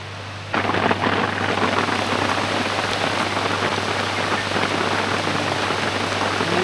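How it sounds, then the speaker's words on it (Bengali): Heavy rain pours steadily after a sudden onset, a dense continuous hiss of drops on surfaces close by. "বৃষ্টি শুরু হয়েছে রে ভাই"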